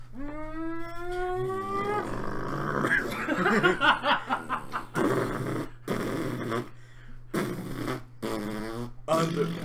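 Fart sound effects played over a wrestling entrance theme, blaring in repeated bursts between bell-like tones, loud and close, with music and voices mixed throughout.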